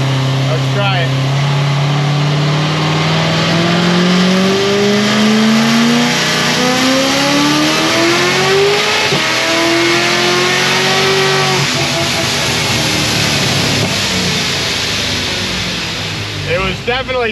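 A car accelerates hard through fourth gear toward about 125 mph with the tires spinning. The engine note climbs steadily and loud, then backs off and fades near the end, with talking in the background.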